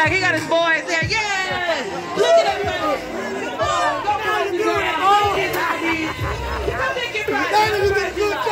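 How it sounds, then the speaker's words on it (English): A crowd of people dressed as zombies cheers and whoops from behind, with lively overlapping shouts and chatter that swell and dip, and nearer voices talking over the din. "look at all the zombies cheering for him in the back"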